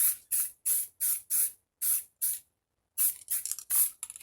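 Aerosol can spraying black paint onto a Honda CB200 motorcycle tank, a series of short close hissing bursts in quick rhythm, a brief pause, then several more sputtering bursts.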